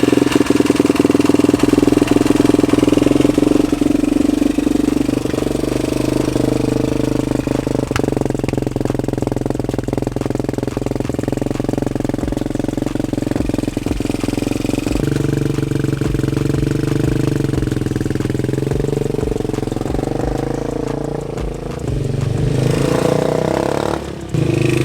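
A lime green vehicle's carbureted engine starts up and runs steadily, a loud, continuous mid-range rumble close by that holds for the whole stretch, with a brief rise and dip near the end.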